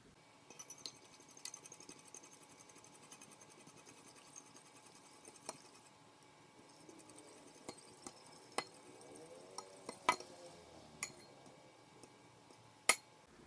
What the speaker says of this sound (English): we're going to whisk that with an egg in this small bowl